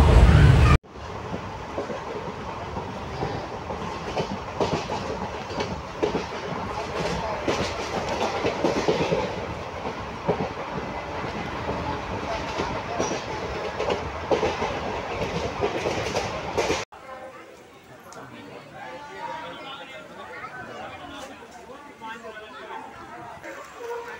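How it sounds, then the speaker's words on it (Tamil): A passenger train runs on rails with a loud, steady rumble and rhythmic clickety-clack, carriage noise and chatter throughout, quieting toward the end. "ட்ரெயின் கிளம்பிடுச்சு."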